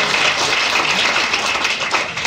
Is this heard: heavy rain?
no